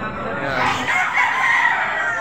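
Roosters at a livestock auction market in Padre Garcia, Batangas, several birds crowing loudly and overlapping, with clucks and crowd murmur beneath.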